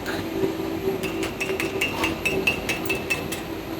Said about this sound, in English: Scratching method for initiating an arc.